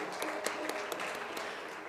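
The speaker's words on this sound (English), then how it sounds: "Let's welcome her with a thunderous round of applause, please." An audience claps in a steady patter of applause to welcome a panel moderator at a leadership event, heard briefly and evenly with no talk over it.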